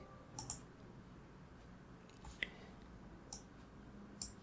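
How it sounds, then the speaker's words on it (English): A computer mouse double-clicked to launch a program, giving several faint, sharp clicks spaced across a few seconds, some in quick pairs, over quiet background hiss. "let us launch our cheat engine by double clicking it"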